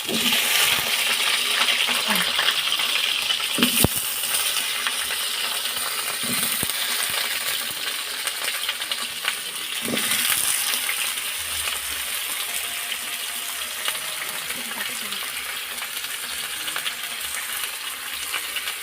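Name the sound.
potatoes frying in hot oil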